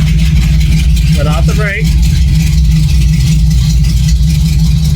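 A Ford Ranger with a modified exhaust rumbles at a steady idle, loud and deep, and a voice briefly talks over the running engine.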